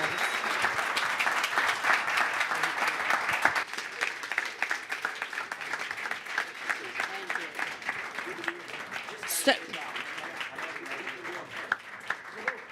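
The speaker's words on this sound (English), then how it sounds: "can we just please have a round of applause for our two governors" A large audience at a justice-reform summit gives a long, sustained round of applause for two governors, a continuous dense wash of clapping with brief voices mixed in.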